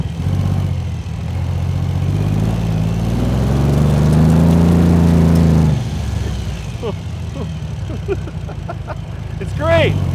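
Meyers Manx dune buggy powered by a radial airplane engine, driven off-road: a loud, steady, throbbing engine drone builds and holds for several seconds, then drops away, with voices talking over it.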